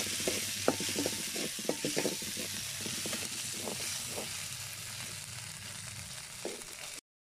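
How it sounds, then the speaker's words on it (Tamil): Stone-ground curry leaf chutney sautéing in hot oil, a close, even sizzle broken by repeated scraping strokes of a stirring spoon, with no voices, stopping abruptly at the end. "இப்போ வந்து எடுத்து வச்சிருக்க கருவேப்பிலை துவையலையும் சேர்த்து 2 நிமிஷம் வந்து இந்த எண்ணெயில் வதக்கி விட்டுருக்கலாம்"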